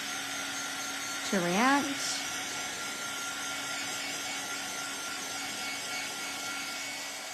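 A heat tool blows hot air onto inked paper during a Sizzix craft session, making a steady, even whoosh from start to end, with a short spoken phrase near the start.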